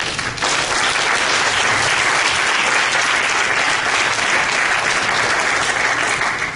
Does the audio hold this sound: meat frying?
no